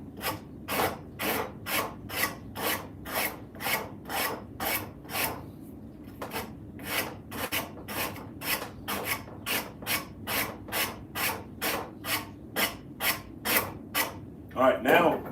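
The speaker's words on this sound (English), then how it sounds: "Now we can take the rasp to it" A hand rasp files a soft poplar wood wedge in steady, rhythmic back-and-forth strokes, close and loud, with a brief pause partway through.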